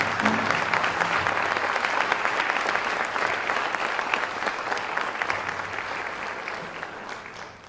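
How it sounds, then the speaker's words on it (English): A banquet audience gives sustained applause to tech school principals and instructors, a thick, continuous wash of clapping that slowly softens toward the end. "Give them a round of applause"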